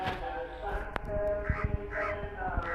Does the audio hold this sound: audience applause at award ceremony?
no